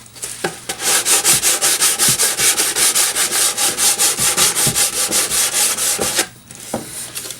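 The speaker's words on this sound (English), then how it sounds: "we're just going to take some sandpaper" Sandpaper scrubs the bottom of a wooden beehive in a fast, steady back-and-forth rhythm, loud and close. It runs for about six seconds, then stops abruptly.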